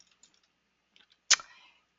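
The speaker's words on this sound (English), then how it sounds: "you click on give credits" A single sharp computer mouse click stands out, preceded by a few faint soft ticks in near silence.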